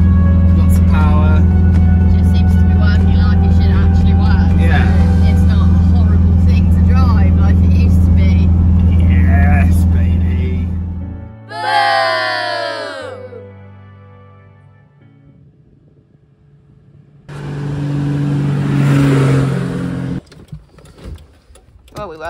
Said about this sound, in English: Yeah, the engine seems to be working really nicely.